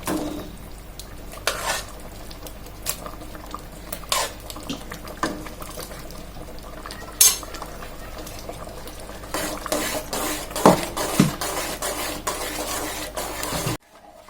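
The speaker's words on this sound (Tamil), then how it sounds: "நம்ம வேக வச்ச சாதத்தை இதோட கலந்துக்கோங்க" Cooked rice being stirred into vegetable sambar in a pot for bisibelebath, with repeated spoon scrapes and clinks against the metal over a low bubbling background, close up and without voices.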